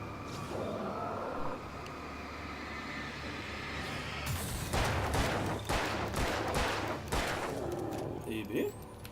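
Gunfire in the Alan Wake 2 video game: bursts of shots crackle after a few seconds of low ambient rumble, fairly loud and repeated, with a voice talking over the game.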